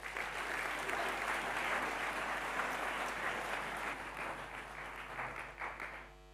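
Warm applause from an audience welcoming a speaker at a Hague Talks event on just peace, a dense, steady clapping that holds for several seconds and then tapers off, with no voices over it.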